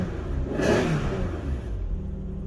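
A Suzuki Buzo car engine revving close by, a broad roar rising to a peak and then easing back to a steady idle.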